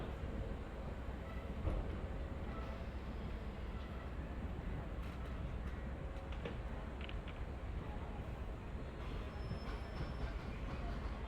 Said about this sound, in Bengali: সামনেই কিন্তু আপনারা ট্রেনের আওয়াজও পাবেন